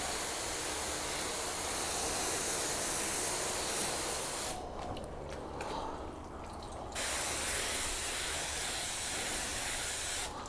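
Spray sealant misted from a trigger bottle onto a car's rear bumper, a steady broadband hiss running almost the whole time, close and loud, with a brief dip in the middle.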